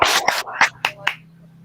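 A small classroom group gives a brief round of clapping for a team of students: about five sharp, separate claps close by, over a low steady hum.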